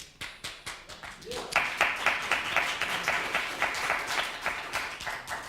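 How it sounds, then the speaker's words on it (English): Audience applause at an advocacy talk, starting as a few slow, distinct rhythmic claps and swelling into fuller clapping from a roomful of people, moderately loud and close. "I just love it when people clap when I talk."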